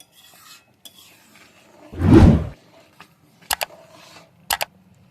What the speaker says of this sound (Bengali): এবার দিয়ে দিচ্ছি আমি অল্প একটু দেশি ঘি